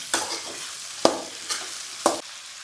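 Broad beans with spices sautéed in a pan, a spatula stirring through them. Four distinct scraping strokes fall at roughly even intervals over a soft, steady sizzle, close up, with no voices.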